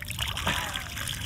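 Water trickles steadily from a mountain stream in the snowy Kebnekaise massif during a winter ski trek, a close, continuous burbling flow over roughly a second with no pauses.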